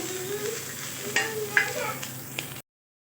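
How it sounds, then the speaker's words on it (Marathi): Green chillies roast in a pan for a Maharashtrian thecha, giving a soft continuous sizzle with a few clicks and scrapes of stirring before the sound cuts off abruptly. "आपल्या छान अशा मिरच्या भाजले गेल्या आहेत"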